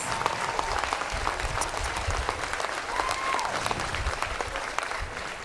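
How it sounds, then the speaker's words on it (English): A crowd at a Stop Asian Hate rally in Austin, at Houston-Tillotson University, breaks into warm, sustained applause, loud and full, with many hands clapping in a thick, unbroken roar. "Let's give Alice a lovely, warm round of applause"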